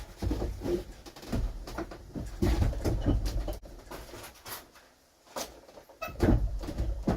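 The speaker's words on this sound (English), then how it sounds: "My drawer is not coming out." A stuck drawer being yanked at repeatedly, giving uneven bursts of wooden scraping, knocking and rattling, with brief pauses between the tugs.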